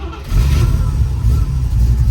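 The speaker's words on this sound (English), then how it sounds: "today we have a 68 RS SS Silver Camaro, and I'm gonna start it up here for y'all" A 1968 Chevrolet Camaro RS SS with a 4-speed transmission fires up after a brief crank and settles into a deep, loud, steady idle rumble close by, with no talk over it.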